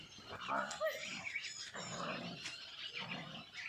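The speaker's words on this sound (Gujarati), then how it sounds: "બે કુતરા બાજા છે" Two dogs fight with snarls, growls and barks in a rough, continuous tussle heard from some distance, fairly faint against outdoor background noise.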